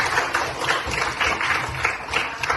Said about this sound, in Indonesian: tepuk tangan dulu buat Aini.